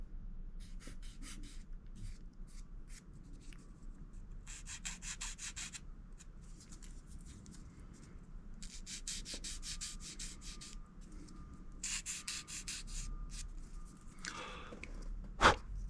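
Balsa wood model plane parts for a West Wings Merlin kit are sanded with a file in repeated quiet rasping strokes, separated by brief pauses, close but faint.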